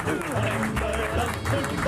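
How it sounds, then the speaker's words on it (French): Studio audience applause on a football TV talk show fills the clip steadily, with voices and background chatter mixed in throughout. "on peut l'applaudir"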